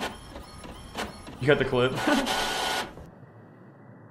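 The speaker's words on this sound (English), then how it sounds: "Terrible sounding printer." Harsh mechanical whirring and clattering from a printer in the horror game The Mortuary Assistant, loud and brief near the middle, with someone talking over the start.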